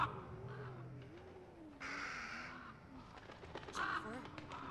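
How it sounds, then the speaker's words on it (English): Birds caw and coo in the horror video game Remothered: Broken Porcelain, a sustained layer of bird calls with a wavering cry and a few louder bursts, heard alongside ambient game sound. "The birds are going to make a lot of noise."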